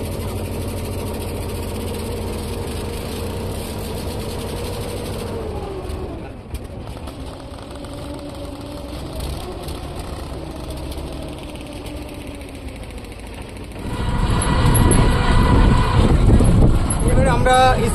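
A river ferry boat's diesel engine rumbles low and steady beneath people talking, then swells into a loud, close throbbing roar for the last few seconds.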